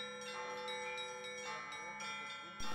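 Church bells of the old Resurrection Cathedral in Nerchinsk ring at a festive welcome, a rapid, bright run of overlapping strikes heard at moderate distance with a sustained metallic hum.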